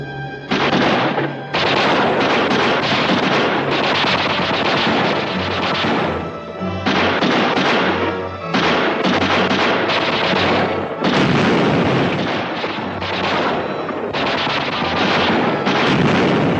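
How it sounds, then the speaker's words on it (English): Sustained loud gunfire from a 1950s science-fiction film, Creature With the Atom Brain, as rounds are emptied at the creatures; dense volleys of shots and crashes fill the whole stretch, with brief gaps between bursts. "They unload all of the rounds into them."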